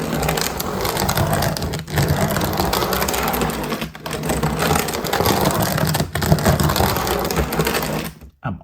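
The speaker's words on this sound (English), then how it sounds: "I'm also cleaning my track by grinding stones across it." Model train grinding stones across its track on a styrofoam model mountain layout, a loud continuous rough rasping and crunching broken by a few brief gaps, with no talking.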